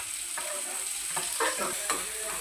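Dal fry being stirred in a pan after coriander leaves go in, a soft steady sizzle broken by several short scraping strokes of the spoon, close and quiet.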